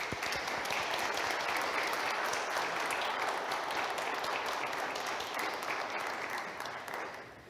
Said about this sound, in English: It's appropriate to give God a round of applause for these young men.